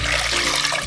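Water pouring into a saucepan, a brief close splashing rush that lasts under a second.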